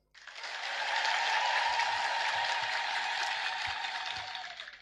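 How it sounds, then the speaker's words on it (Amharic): A church congregation breaks into applause, a dense sustained clapping from many hands that rises quickly, holds for about four seconds and slowly fades. "እስቲ ማትወዷት አጨብጭቡ"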